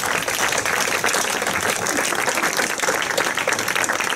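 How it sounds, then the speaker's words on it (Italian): A festival crowd applauds at the opening of the seventh Cleto Festival in 2017, a dense and steady wash of clapping that holds at full strength for the whole stretch with no pauses. "questo va applaudito"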